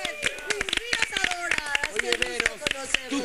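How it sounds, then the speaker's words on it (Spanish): Scattered sharp claps from a studio audience on a Spanish-language talk show, heard under continuous speaking voices and never building into full applause. "Quiero pedir en esta ocasión un fuerte aplauso"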